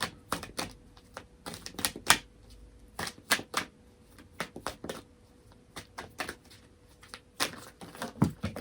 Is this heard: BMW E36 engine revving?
no